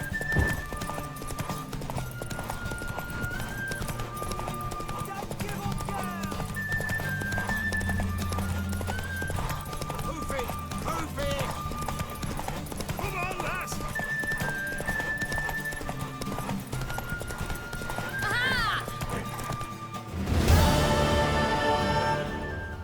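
Horse hooves clip-clop in a rapid gallop alongside game music in The Witcher 3 Next-Gen, with a whinny partway through and a brief burst of noise near the end.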